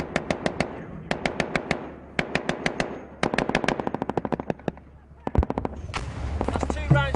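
Automatic gunfire from a Taliban attack in Afghanistan crackles in repeated short bursts of several rounds each, sharp and fairly close, with denser volleys and a heavier blast near the end.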